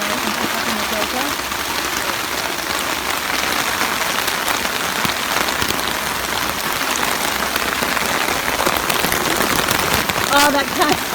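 Rain falls steadily on a tent at a camp being packed up, a dense, constant hiss and patter close around, with faint movement underneath.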